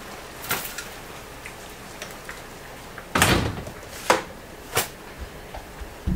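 A trailer door in a desert trailer park on a rainy day bangs and clatters through a few sharp opening and closing thuds over a soft, steady hiss of rain.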